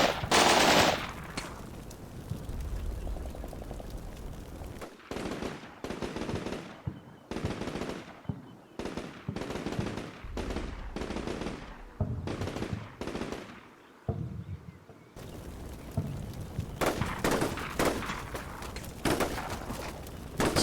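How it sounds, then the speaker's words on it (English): Bursts of machine-gun fire and scattered gunshots crackle through an urban ambush in Combat Mission Shock Force 2, with grenades lobbed in. The volleys come in rapid, uneven clusters against a low battlefield rumble. "Taking fire from across the street, and there's also a few grenades being lobbed around"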